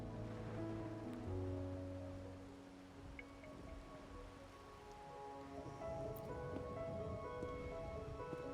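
Soft, steady rain patters in the background of the game Wuthering Waves under a low, sustained tonal drone, fairly faint throughout.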